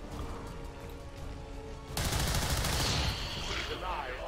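Soldiers fire in XCOM 2: an abrupt, loud burst of rapid gunfire fills the latter half, following a steadier stretch of game ambience.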